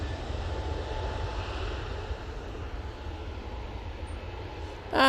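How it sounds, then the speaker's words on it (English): An Airbus A320neo jet departs Manchester Airport for Funchal, heard as a steady, broad engine roar at moderate distance that holds evenly throughout, ending with a brief sharp noise at the close. "These jets, A320neo, off to Funchal."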